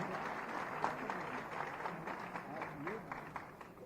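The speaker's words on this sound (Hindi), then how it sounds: "एक बार जोरदार तालियों के साथ स्वागत" Steady applause from a crowd at a World Disability Day award event in Lucknow, a continuous patter of many hands clapping, heard at a moderate distance.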